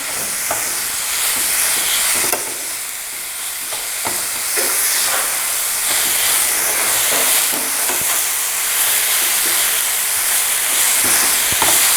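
A sugar and rose petal gulkand mixture fries in a pan with a steady, close hiss and sizzle. Faint stirring scrapes run underneath throughout, with no talking.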